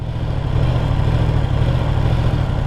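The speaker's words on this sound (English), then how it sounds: "you hear how the engine is engaging" Motorcycle engine running steadily at close range with a low, even throb as the clutch is let out and the drive engages, a constant rumble with no talking.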